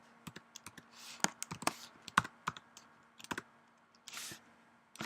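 Typing code on a computer keyboard, with quick bursts of close, crisp key clicks and a few heavier keystrokes in an uneven rhythm, heard alone over a faint steady hum.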